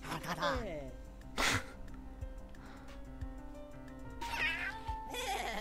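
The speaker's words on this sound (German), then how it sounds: "Oh, muss man mit der Katze knuddeln." A cartoon cat meows in the Trollface Quest video game, a few short cries mixed with game music and effects while someone talks over them.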